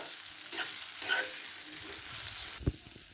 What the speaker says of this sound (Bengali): মশলার সঙ্গে চালটা ভালো করে ভেজে নিতে হবে।